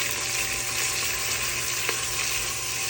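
Bacon, onions and garlic fry in a pan with a loud, close, continuous sizzle, a dense hiss that stays even throughout, heard on its own.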